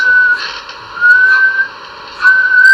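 A person whistles a wavering, sustained tone in three rising-and-falling bursts, close and fairly loud, sounding like a fumbling attempt at learning to whistle.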